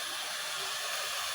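A steady broadband roar of a special high-powered blower fitted to a large chamber setup, running continuously and fairly loud at close range with no voices.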